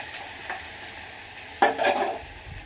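Onions sautéing in a pan for sambar, a steady low sizzle broken by a louder burst of stirring and scraping partway through, close and without talk.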